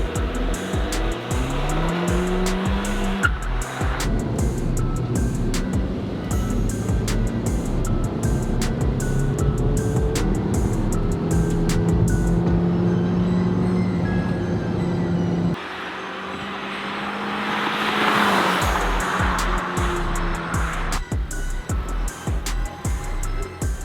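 A repaired, modified car in Barbados drives along with a loud, steady engine drone that rises and falls through gear changes, its roar swelling near the end, with no voices.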